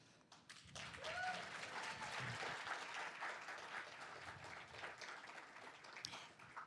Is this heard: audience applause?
yes